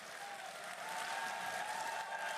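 An audience applauds and cheers at a French conservative party leadership debate, steady dense clapping that rises slightly and holds throughout, with no speech over it.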